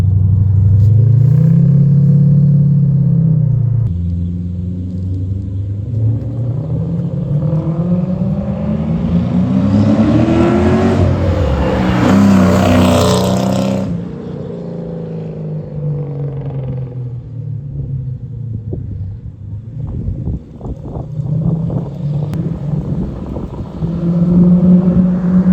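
Toyota Soarer with a 1UZ V8 and an X-pipe exhaust drives by, a deep burbling rumble that swells as the car approaches, peaks with a rising rev, then fades away before the idle burble returns close by.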